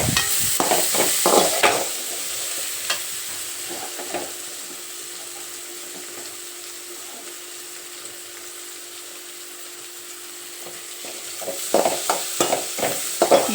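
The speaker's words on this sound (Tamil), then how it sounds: "நல்லா வெங்காயம் வதங்கட்டும்" Onions sautéing in a pan for a Tamil chicken gravy, a steady soft sizzle with occasional scraping stir strokes that cluster louder at the start and end.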